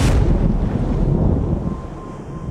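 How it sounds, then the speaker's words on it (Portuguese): Strong wind roars and buffets the microphone, a loud continuous rushing blast that eases slightly toward the end, with no talking. "um vento forte sopra e sua paz é destruída"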